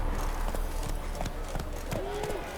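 Roach, a horse in The Witcher 3: Hearts of Stone, gallops with a steady clip-clop of hooves under a speaking voice and ambient game sound.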